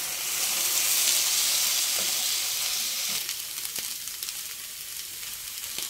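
Meat on a grill beside nopales and dried chiles gives off a steady, close hiss of sizzling that thins out partway through, with a few faint clicks and scrapes as it is flipped.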